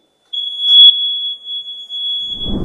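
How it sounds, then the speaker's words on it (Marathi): A single sustained high-pitched beep from an electronic voting machine rings steadily for a couple of seconds, loud and clear, signalling a completed vote, followed by a brief rustle at the end. "असा बीपचा आवाज आला की आपलं मतदान पूर्ण झाल्याशिवाय मतदाराने आपलं मतदान कक्ष सोडू नये"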